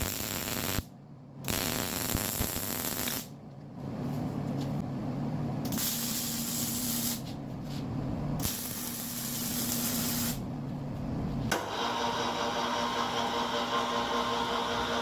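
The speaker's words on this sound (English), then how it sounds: "Okay, now I've already shot some Rust-Oleum on this." Rust-Oleum aerosol paint sprayed onto a welding rig in a home auto-restoration shop, coming as a few loud hissing bursts separated by short pauses, close up with no voices.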